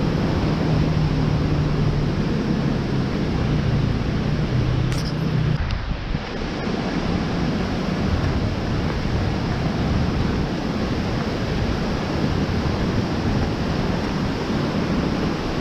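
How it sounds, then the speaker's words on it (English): Loud, steady roar of a flooded creek waterfall at Little Egypt during flash flooding, a dense broadband rush of churning water that fills the whole clip with no pause. "There's a waterfall that runs down through this creek."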